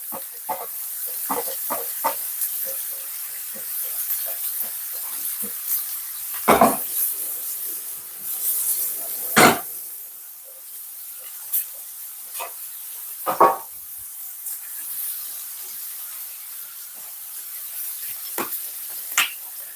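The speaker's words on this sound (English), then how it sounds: "I'm going to fry off the onions" Onions fry in a pan for a bolognese, a steady soft sizzle broken by sharp scrapes and clinks of stirring, close and alone with no talk.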